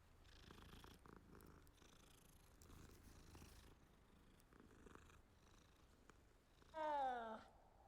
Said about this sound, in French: Oh, il est trop mignon ce petit chat.